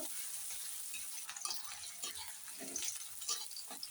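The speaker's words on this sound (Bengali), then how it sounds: "আমি কড়াইয়ের মধ্যে রান্নার তেল দিয়ে নিচ্ছি এর ভেতর দিয়ে নিচ্ছি পেঁয়াজ কুচি পেঁয়াজটাকে ভালো করে ভেজে নেব" Chopped onion fries in cooking oil in a kadai, giving a faint, steady hiss and crackle with a few soft clinks of a utensil stirring near the end.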